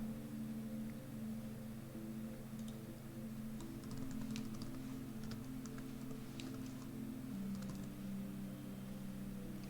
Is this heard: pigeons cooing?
no